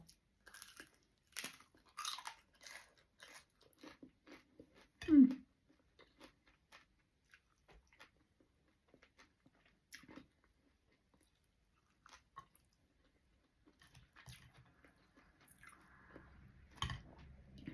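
Crispy fried red sausage being bitten and chewed up close, with crunchy bites scattered through long quiet stretches and a louder crunch near the middle; no words.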